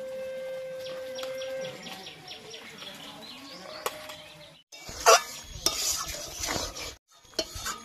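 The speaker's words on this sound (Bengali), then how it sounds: "পটলটা ওর ভিতরে দিয়ে ভালো করে একটু নেড়ে চেড়ে নেব" A spoon turns pointed gourd through a yogurt and nut spice paste in a pan, producing close scraping and clattering strokes over a soft sizzle, with a brief pause before louder, busier stirring resumes.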